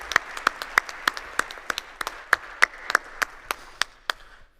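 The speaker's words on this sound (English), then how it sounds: "Let's give a round of applause for our speakers for this session." Sparse, crisp applause from a conference audience on a main stage, with distinct individual claps in a steady scattered rhythm that thins out and fades at the end, fairly quiet and heard alone.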